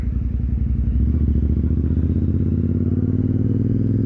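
A Royal Enfield Continental GT 650 twin-cylinder exhaust burbles close by with a low, pulsing, rhythmic thump that rises in loudness after the first second and then holds steady.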